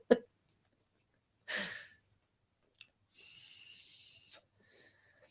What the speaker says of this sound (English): I'm sorry about the slurping noise, but I'm having to drag the shit out of this thing.